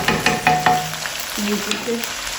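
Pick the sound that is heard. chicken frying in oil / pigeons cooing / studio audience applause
chicken frying in oil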